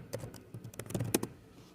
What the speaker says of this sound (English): I cannot talk and type at the same time